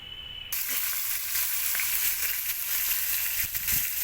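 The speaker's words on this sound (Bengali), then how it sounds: "মাছের মাথাগুলো দিয়ে দিয়েছি এবার ভালো করে ভেজে নেব" Fish heads hit hot mustard oil in a pan and burst into a loud, steady sizzle after a brief quiet start, crackling continuously up close with no talk.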